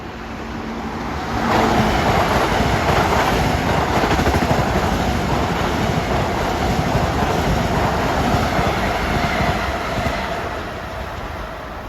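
LIRR Ronkonkoma train from Grand Central passing through Forest Hills, a loud sustained rumble and roar of rail cars rushing by close at hand, building quickly and holding steady before easing slightly at the end.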